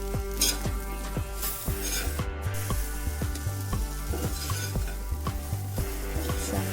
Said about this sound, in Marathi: दोन मिनिट मस्त परतवून घ्यायचं आहे